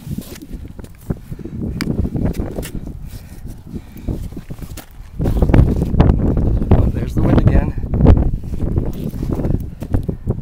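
Wind gusting over an exposed desert ridge in Utah, roaring and buffeting close to the microphone throughout and growing stronger partway through, with footsteps and clothing rustle underneath.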